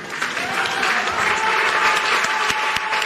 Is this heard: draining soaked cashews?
no